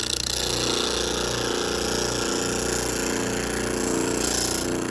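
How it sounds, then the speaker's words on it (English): An electric sander grinds steadily against a convex hand mirror, a loud, continuous buzzing drone that holds at an even level throughout with no speech. "I'm going to sand this as far as I can take it"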